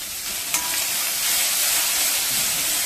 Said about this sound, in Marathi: थोडासा कढीपत्ता आणि आपण हा बारीक चिरलेला कांदा घालणार आहोत आणि तो छानसा आपण लालसर परतून घेऊया।